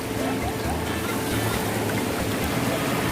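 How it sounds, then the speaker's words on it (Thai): A small, fast-flowing stream in Nakhon Nayok, Thailand, rushes steadily and close by, a continuous broad splashing hiss. "อันนี้เป็นลำธารน้อย ที่จะไป ไปถึงลำธารใหญ่ โอ้ยแต่น้ำแรงอยู่นะ"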